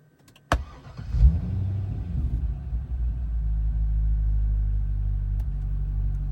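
A Corvette engine cranks and catches right after being switched off. A sharp click comes first, then the starter whirs briefly before the engine settles into a steady, close low idle rumble.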